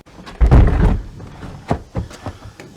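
A heavy 36-inch exterior door is handled and set into its framed opening during an installation, giving a loud thunk followed by several lighter knocks and taps, close by with no talk.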